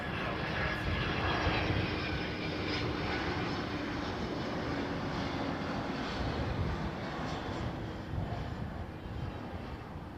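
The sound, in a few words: airliner arriving at Heathrow airport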